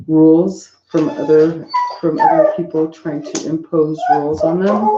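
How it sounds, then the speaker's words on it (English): A dog whimpers and yips intermittently in the background while a person talks steadily over it at close range. "And I apologize for that darn dog."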